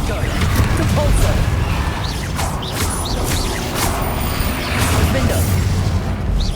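Spell casts in Hogwarts Legacy land in a steady barrage of booming, crashing impacts and magical bursts, loud and close, one hit after another over a dense rumbling game soundscape.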